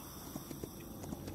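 Horse hooves clip-clop in a video game as a rider urges the mount on. The footfalls form a faint, quick series of light knocks against a soft game background.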